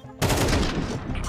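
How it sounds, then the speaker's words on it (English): A single abrupt burst of AK-47 fire in Counter-Strike 2, sharp and loud, trailing off quickly with a short ringing tail. "Donk has the primary choice of the AK-47, and there was never a doubt, the headshot."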